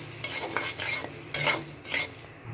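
Rice tossed and stirred in a hot wok, a dry scraping, rustling stir with light sizzle, in several bursts up close with no talk.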